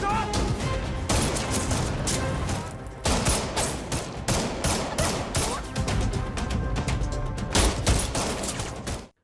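Heavy gunfire from a film shootout between police and robbers fills the clip with rapid, loud bursts of shots and crackling volleys, nearly continuous with a few short pauses.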